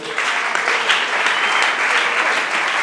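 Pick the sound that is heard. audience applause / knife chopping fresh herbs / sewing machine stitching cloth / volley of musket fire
audience applause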